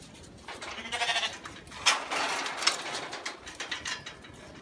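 Sheep bleating repeatedly at a livestock market while they run through for checks, several overlapping calls of varying loudness from close by, with a busy pen murmur underneath and no clear talk.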